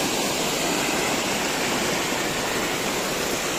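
Water rushes down a natural river slide in a dense, constant roar, loud and close, with no break or change across the whole stretch and no voices.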